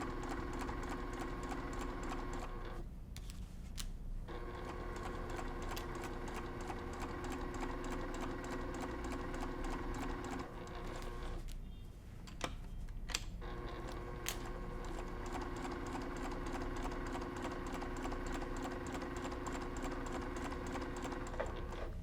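Sewing machine stitching along the edge of a layered cross-stitch pillow at stitch length 3.0, a steady fast mechanical whir with two short pauses where it stops and restarts.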